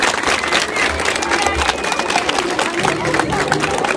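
A village audience at a circumcision feast claps and cheers in a lively, dense burst of applause, loud and close, with crowd voices mixed in.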